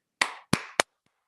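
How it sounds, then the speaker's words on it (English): Three sharp hand claps in quick succession in the corner of a busy office room, close and crisp, each ringing briefly before silence. "I love to clap out the corners."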